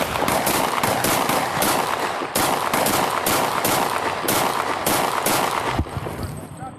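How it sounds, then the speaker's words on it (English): A loud, rapid volley of gunshots fired during a police encounter with an armed man, about a dozen close cracks in quick succession, then a brief pause and a few more shots before it stops. "6-8, shots fired, shots fired."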